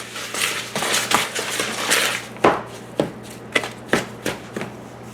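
A spoon stirs oatmeal cookie batter in a bowl, creamy mixture being beaten by hand with an irregular run of soft scraping strokes and sharper clacks against the bowl, close up with no talking.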